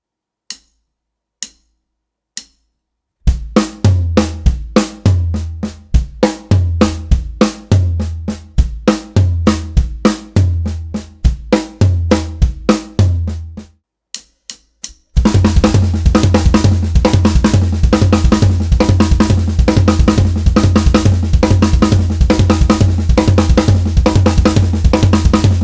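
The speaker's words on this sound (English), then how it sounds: "accent all of the single left-hand strokes on the snare. And that brings out this cool offset triplet rhythm" A drum kit starts with sparse soft ticks, then plays a rolling nine-stroke pattern with accented single left-hand snare strokes forming an offset triplet rhythm that pulls against the beat, before a dense, busier groove takes over.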